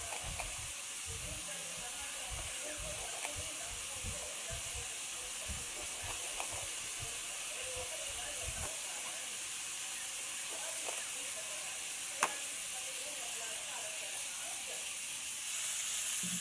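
Vegetables sauté in a hot pan for Adobong Sitaw with Talong, giving a steady, even hiss and sizzle with faint clicks throughout.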